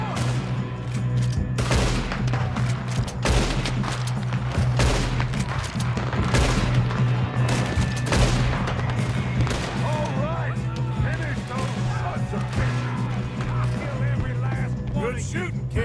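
Rapid bursts of gunfire in Red Dead Redemption 2, dense overlapping shots and booms throughout at a steady loud level, with voices speaking over the fighting.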